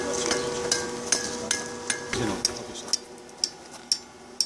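A blacksmith's hammer strikes hot steel at a forge while a fire steel is shaped, giving sharp ringing blows about every half second over a steady hum of workshop noise and the roar of the forge.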